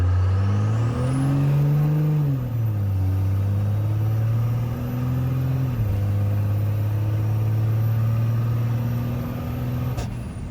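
A diesel Cummins truck engine with an adjustable boost elbow rumbles loudly up close, revving up, easing back, then holding a steady drone, with a brief hiss near the end.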